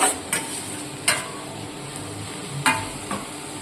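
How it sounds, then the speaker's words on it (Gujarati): Corn kernels go into a frying taco filling in a pan and are stirred, with a spoon scraping and tapping the pan in several sharp clicks over a steady low sizzle. "ચલો હવે આપણે લાસ્ટમાં મકાઈ નાખીશું"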